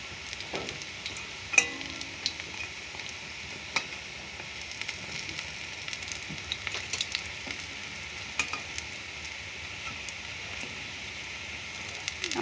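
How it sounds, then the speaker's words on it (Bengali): Phuluri fritters frying in hot oil in a pan, a steady close crackling sizzle throughout with occasional sharper pops and spatters; no talking. "এক পাশটা ভাজা হয়েছে, এখন আর এক পাশটা ভেজে নেব।"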